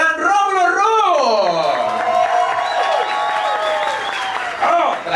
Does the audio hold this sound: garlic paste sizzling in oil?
no